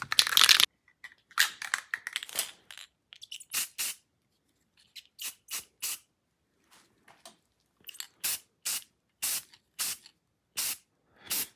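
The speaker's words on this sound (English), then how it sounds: "Just gonna do some shaking and some spraying" UV-resistant spray paint can rattled, then sprayed in a series of short, close hissing bursts with brief pauses between them, over a quiet background.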